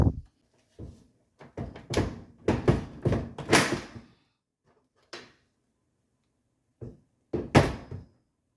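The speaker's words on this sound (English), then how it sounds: "once you do that, then you can lift the door out" A KitchenAid oven door is worked free and lifted out, giving a run of close metallic clunks, thumps and rattles, then a pause, then a few more knocks and a bang.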